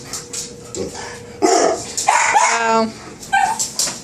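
Excited dogs whimper and yip in bursts of high, squeaky cries, loud and close, with a person briefly exclaiming among them.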